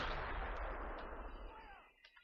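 Heavy gunfire in the Pegasus Bridge battle game with the Robz Realism Mod, a deep booming blast that rumbles and fades over two seconds, followed by a couple of faint distant pops.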